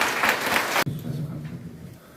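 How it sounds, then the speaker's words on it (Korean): Applause from an audience at a ceremony with farmers and lawmakers, a brief burst of clapping that cuts off abruptly, leaving quiet room murmur. "박수 한번 쳐주시기 바랍니다."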